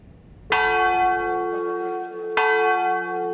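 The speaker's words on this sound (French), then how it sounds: "Les cloches de la cathédrale Sacré-Cœur de Jésus résonnent avec un nouvel éclat" Two loud strikes of the Sacré-Cœur de Jésus cathedral bells ring out, each with a long, shimmering resonant decay, the second arriving about two seconds after the first.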